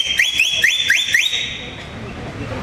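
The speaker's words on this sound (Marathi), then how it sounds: "आता ही माणसाची शिट्टी झाली" A person whistles by mouth with the tongue rolled, giving several short rising shrill notes in a quick run. It sounds close and loud, then stops, leaving quiet room noise.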